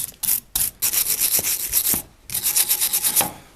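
A rusty hammer head, just lifted from a vinegar soak, is scrubbed in quick, rasping strokes, loud and close, in bursts separated by short pauses.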